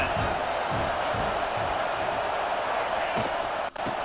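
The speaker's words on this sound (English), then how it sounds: "This crowd trying to make life miserable for this offense." Stadium crowd roar in a college football video game's dynasty mode, a steady loud wash of noise with faint cheering swells and a brief thump near the end, no clear talk over it.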